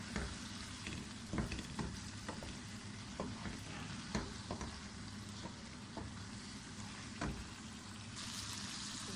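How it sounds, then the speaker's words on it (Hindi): Pieces of mutton frying in a pan for chana gosht give a continuous sizzle, with frequent clanks and scrapes of a spoon stirring the meat, close and alone with no voices. "2 से 3 मिनट हमने गोश्त को फ्राई कर दिया"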